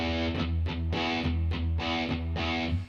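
Heavily distorted electric guitar in a rock riff, its notes ringing out loud and sustained between chugging re-attacks, with no voices.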